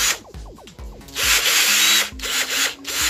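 A Makita cordless impact drill spins up at high speed in a few short revving bursts, then holds a steady, close, loud whine with slight pitch wobbles.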